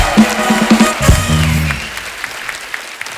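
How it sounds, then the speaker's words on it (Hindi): A studio audience breaks into applause for arriving guests on a comedy talk show, with a musical sting at the start, then a dense wash of clapping that thins out toward the end. "तो एक बार जोरदार तालियां हमारे मेहमानों के लिए,"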